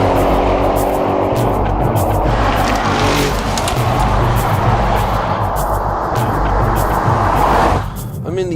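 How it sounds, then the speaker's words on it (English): Audi RS7 engine roars continuously up a canyon road, a loud, sustained drone with road and wind noise, easing off abruptly near the end. "I'm in the RS7 and I'm rocking up a canyon road."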